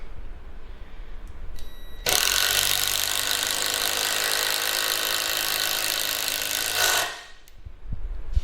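Old Ryobi impact driver running, a loud close whirring burst lasting about five seconds, starting abruptly after light handling clicks and then cutting off.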